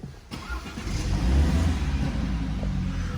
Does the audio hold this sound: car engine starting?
yes